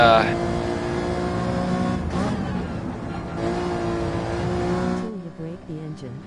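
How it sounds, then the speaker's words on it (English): Race car engine revving at Brands Hatch, a sustained droning engine note that rises and falls with gear changes, close and steady, with someone talking over it. "Rev it out, okay."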